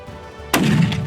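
A single loud rifle shot fired close by during a white rhino hunt, a sharp blast followed by a rumbling tail.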